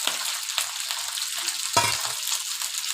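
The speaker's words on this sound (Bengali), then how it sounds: "মাংসগুলো দিয়ে দিলাম" Chicken pieces for chicken soup sizzle steadily in hot oil, a continuous close frying hiss with a brief sharper crackle burst near the middle, and no voices.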